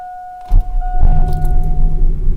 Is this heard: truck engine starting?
yes